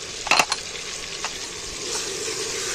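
Ginger and garlic paste frying in oil with onions, a soft steady sizzle with a few sharp clinks of a utensil against the pan near the start.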